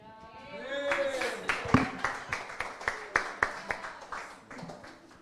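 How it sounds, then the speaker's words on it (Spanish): A church congregation at an Easter resurrection service claps in a steady rhythmic beat, roughly a dozen and a half evenly spaced claps, after a brief voice at the start. "Dele una ofrenda de palmas al Todopoderoso en esta hora"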